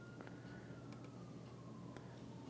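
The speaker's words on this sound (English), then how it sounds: "And you hear the sirens, man, like police or something." Faint police sirens wail in the distance, a thin rising-and-falling tone drifting over a steady low background hum, with no talk.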